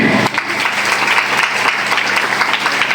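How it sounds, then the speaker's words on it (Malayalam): Loud, dense applause from a school audience at a Govt HSS Marayamuttom school-opening ceremony, a sustained crowd of clapping hands heard close and continuous for the whole stretch. "ആ അമ്മൂമ്മ അടക്കം എല്ലാവരും ഒരു ഗംഭീര കൈയടി"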